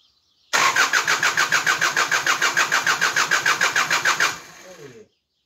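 Peugeot 305 turbo diesel cranks in a fast, even rhythm of about twenty loud strokes, then catches briefly and dies away, with a faint voice at the very end.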